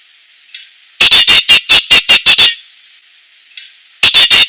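A penguin call sound effect: loud, rapid bursts of harsh, brassy squawks in quick rhythmic series, with a fainter drawn-out bray between the bursts, close and without talk.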